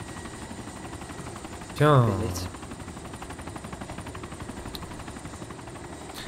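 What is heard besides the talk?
helicopter with gun in video game DayZ Epoch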